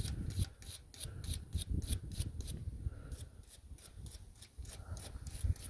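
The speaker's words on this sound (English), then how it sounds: "So that's a stainless brush right here" A stainless steel brush scrubs a surface in quick, rhythmic back-and-forth strokes, close and fairly quiet, with a rasping, scratchy texture.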